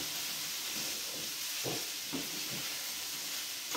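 Butter sizzling in a hot pan with oil, a steady soft hiss throughout with a few faint low pops, close and alone.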